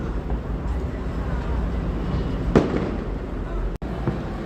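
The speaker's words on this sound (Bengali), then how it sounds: "দেখুন কি বাজি ফোটানো হচ্ছে।" New Year fireworks going off at night, a dense continuous rumble of distant bangs with one sharper crack standing out, under a low steady background.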